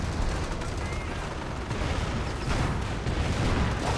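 An M2 machine gun keeps firing in a Company of Heroes battle, a dense, continuous rattle of gunfire mixed with explosions and low rumble at steady loudness, with a commentator talking over it.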